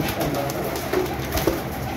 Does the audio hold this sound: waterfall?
no